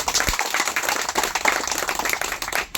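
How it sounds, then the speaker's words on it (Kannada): A crowd at a birthday commemoration event claps loudly and continuously, a dense, close wash of hand claps that holds steady and drops briefly near the end. "ಜೋರಾಗಿ ಚಪ್ಪಾಳೆ ತಟ್ಟುವ ಮೂಲಕ"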